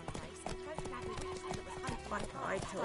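Roach, Geralt's horse in The Witcher 3, trots at a steady clip-clop with a brief whinny, a voice speaking over the hoofbeats and game ambience.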